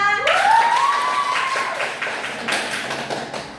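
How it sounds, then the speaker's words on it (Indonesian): Scattered hand claps from a small classroom group break out after a brief whistle-like tone, fairly close and sparse rather than a full ovation. "Tepuk tangan dulu untuk kelompok 2."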